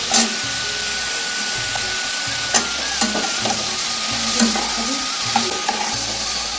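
Flat beans and potatoes fry in oil with turmeric, a continuous sizzle broken by intermittent scraping and clinking as a spatula stirs the pan.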